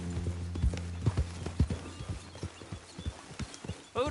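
Horse hooves trot in a steady clip-clop rhythm in the video game Red Dead Redemption 2, close and distinct with a brief whinny-like call near the end and no talk.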